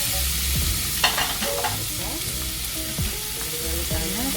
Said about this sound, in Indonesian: terus ditaruh di pemanggangan dan memanggang bandeng